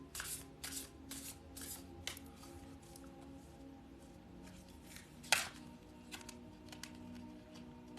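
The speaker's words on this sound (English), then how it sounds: "these cards do not shuffle very easily." Tarot cards are shuffled in soft repeated riffling bursts, close and quiet, with one sharper snap partway through.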